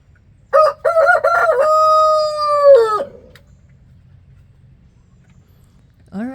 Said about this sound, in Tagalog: Yung isa tilaok ng tilaok, yun, yung puting manok doon, oh.